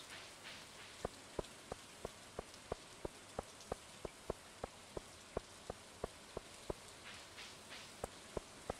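Soft, steady rainfall in the farming game Stardew Valley hisses in the background while a crisp, evenly spaced ticking beat, like footsteps, repeats through most of the stretch.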